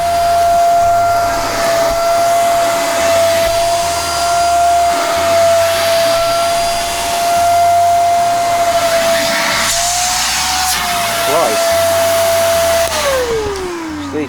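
Portable handheld vacuum cleaner used as a campervan accessory, running loud and steady with a strong motor whine for about thirteen seconds, then winding down as it switches off near the end.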